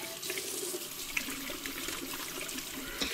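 Running water splashes steadily as hands and forearms are scrubbed with a surgical sponge during a surgical handwashing procedure, a continuous close wash with faint scattered clicks and no talking.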